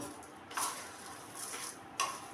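Puffed rice snack being tossed in a bowl with salt, roasted peanuts and chopped cucumber; a few close scraping, clinking strokes come in short bursts against a quiet background.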